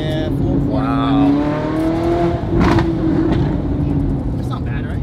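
A rebuilt Ferrari engine held at about 4500 RPM, a steady loud rising-and-settling rev tone with harmonic layers, while people talk over it nearby.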